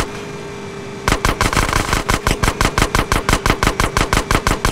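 Rapid automatic gunfire in GTA San Andreas, aimed at an old sewer gate: a sudden, loud, evenly spaced burst of about twenty sharp shots that starts after a second of quieter game ambience and continues steadily with no talk.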